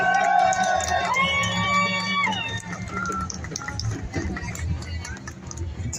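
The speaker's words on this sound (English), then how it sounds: "Again, round of applause." Protest crowd outside the Sacramento Capitol applauding and cheering after a speech against ICE, with whoops and scattered shouts over a loud, sustained rumble of clapping.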